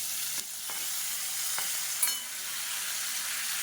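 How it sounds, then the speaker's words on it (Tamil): Chopped tomatoes with a little tamarind sauté in a pan for chutney, a soft steady sizzle with a few light stirring scrapes and knocks, quiet and close with no talking. "இப்போ தக்காளி ஓரளவுக்கு வதங்க ஆரம்பிச்சிருச்சு"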